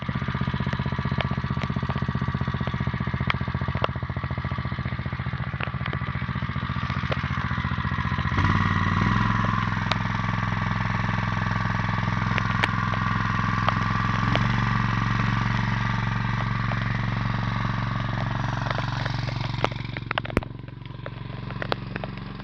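A pump engine runs steadily, a loud continuous mechanical drone with a rattling edge that shifts to a heavier, deeper tone partway through and keeps chugging throughout.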